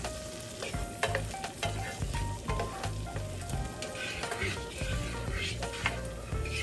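Garlic stirred in a hot pan, with a close, continuous sizzle and frying crackle and occasional soft scrapes and clinks of a utensil on the pan.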